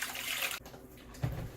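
Two cups of water are poured for pickle brine, a faint splashing pour that drops off and then briefly swells again, quiet and close with no voices.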